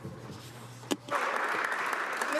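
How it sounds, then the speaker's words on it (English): Members of the House of Commons break into applause during Question Period, a sudden burst of clapping that swells and holds steady, preceded by a low hum and a sharp knock. "it's wonderful to see the Member of Opposition applaud our success as a government"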